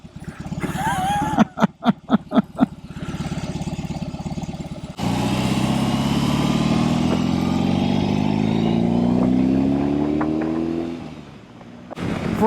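A 2022 BMW R18 Bagger, an 1800cc cruiser weighing about 867 pounds, first gives a series of short throttle blips. It then pulls away with a loud, sustained engine drone that climbs steadily in pitch before easing off.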